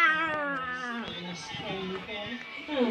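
A cat meows with drawn-out, wavering cries over a noisy indoor scene where children shout and talk over and around it.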